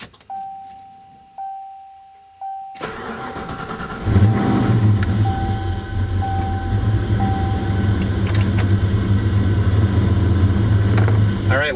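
A car fitted with an SCT Eliminator tuner chip on its street tune, first a few ticking clicks, then the engine catches and revs steadily with a loud, sustained drone that holds for several seconds.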